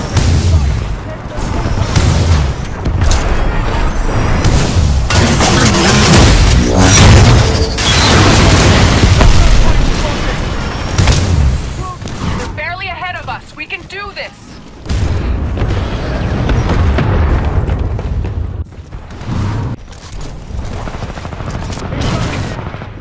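Titan weapon fire and explosions in Titanfall 2 combat: continuous loud booming and rapid blasts that build over the first half, break briefly, then resume, with game voice lines mixed in.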